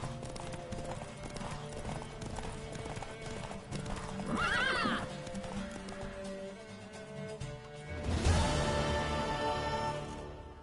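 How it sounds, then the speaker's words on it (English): Steady clip-clop of hooves from a galloping horse in a PS4 video game, with a horse whinnying midway and a louder burst near the end over background music. "Worthy of the best horse."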